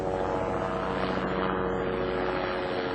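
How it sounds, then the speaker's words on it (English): A police helicopter flies outside an apartment, its steady rotor and engine drone holding at a constant, moderate level through the whole stretch with no voices over it. "there are a lot of police helicopters that kind of keep buzzing around my apartment"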